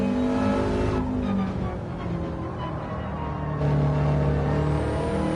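Subaru WRX race car engine droning steadily at high revs, loud and close, with a slight rise in pitch toward the end and no voices.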